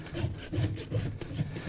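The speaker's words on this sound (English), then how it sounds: "I let my rasp kind of guide me on that" A farrier's rasp files a mule or donkey hoof in steady back-and-forth strokes, each a gritty scraping pass roughly every half second, close and moderately loud with no talking.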